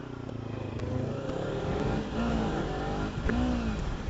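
A Kawasaki Ninja 300 sport motorcycle engine revs up and climbs in pitch, rumbling close by with a couple of rising throttle bursts.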